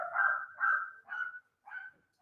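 Several dogs bark in a home, four short bursts of barking with brief gaps between them, fairly close, with no talking over them.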